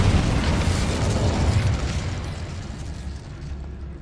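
An Incendio fire spell cast in Hogwarts Legacy erupts as a loud, deep fiery burst with a rumbling low-end roar that slowly fades over a few seconds, with no voices.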